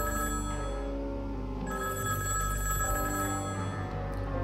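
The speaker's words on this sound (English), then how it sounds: "I heard the ear-grating ringing of the telephone." Telephone ringing in the horror visual novel game Higurashi, a loud electronic bell ring sounding continuously and alone, with a brief break partway through.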